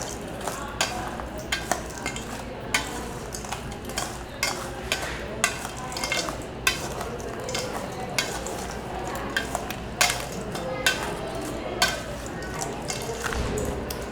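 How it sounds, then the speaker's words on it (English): Vegetables tossed with olive oil in a bowl give close, repeated scraping and clattering taps at an irregular rhythm, steady throughout with only slight background speech. "Kind of toss it all together in a bowl to make sure it's all covered."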